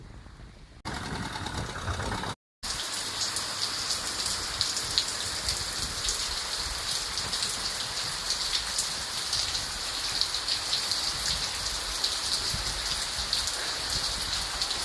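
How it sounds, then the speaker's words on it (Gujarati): Rain falls on a peanut field in a steady, dense hiss of drops that continues for the whole stretch after a brief cut near the start, with a faint engine hum underneath and no talking. "ભાઈ આવી ગયો વરસાદ."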